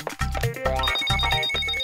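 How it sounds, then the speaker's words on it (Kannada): Cartoon mobile phone ringing, four rhythmic electronic ring bursts repeating steadily, fairly loud and clear with no voices over them. "ನಿನ್ ಫೋನ್ ಈಗಲೇ ಪಡ್ಕೋಬೇಕೇನೋ?"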